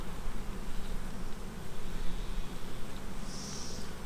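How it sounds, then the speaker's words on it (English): Agitated honey bees buzz steadily in a closed jar during a sugar shake with icing sugar to dislodge mites, a continuous close hum that persists throughout with no talk. "you can see the agitation of the bees"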